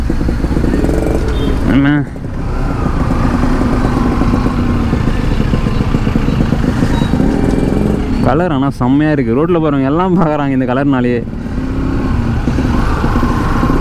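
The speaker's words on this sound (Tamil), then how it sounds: "வண்டி இன்ஜின் சவுண்டு இன்னும் பக்காவாக இருக்குது" A Bajaj NS200 motorcycle engine idles steadily nearby, a continuous low rumble that runs beneath someone talking almost throughout, with a brief dip in the sound partway through.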